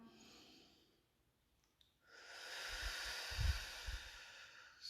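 A deep inhalation during guided meditation: a faint airy breath early, a short gap, then a louder, longer rush of breath with soft low puffs, close and without talk.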